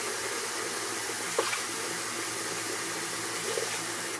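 Warm water runs steadily into a sink while being patted onto mascara-coated eyelashes with the fingers, a close, continuous rushing hiss with faint brief splashes.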